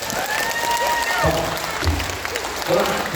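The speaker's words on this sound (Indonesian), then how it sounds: "Tepuk tangan untuk BMI Hongkong" Audience applause at an Islamic religious gathering in Hong Kong, a steady crowd clapping with some cheering voices mixed in, moderately loud throughout.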